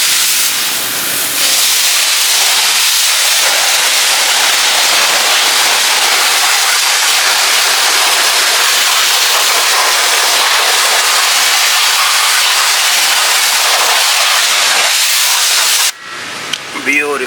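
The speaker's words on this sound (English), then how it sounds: "Lucky for me, we have pressure washer here." A pressure washer spraying a Mercedes-Benz GLC63 S AMG with a V8, a loud, steady, close hiss of high-pressure water running nearly continuously before cutting off near the end.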